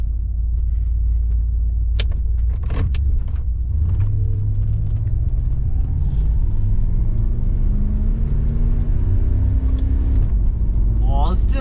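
Holden VR/VS Commodore with a 5-litre engine driving around the block, steady loud interior road rumble with engine tone rising and falling through gear changes, no talk.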